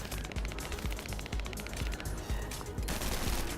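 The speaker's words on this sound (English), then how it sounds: "The gunfire sounds like it's coming from here" Rapid bursts of gunfire in the game The First Descendant crackle continuously, with sharp repeated shots and automatic volleys layered over a busy background.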